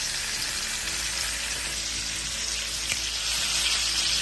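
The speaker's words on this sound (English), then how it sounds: "Keep basting the steaks with this butter." Rib eye steaks sizzle loudly and steadily in a pan as they are basted with butter and rosemary, a dense continuous crackle with no pauses.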